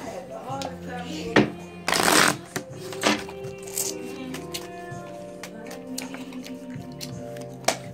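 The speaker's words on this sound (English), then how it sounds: "I'm going to shuffle like you do" A deck of playing cards being shuffled at a home card game, a loud riffling burst standing out from scattered taps and handling noises, with background music and household sounds throughout.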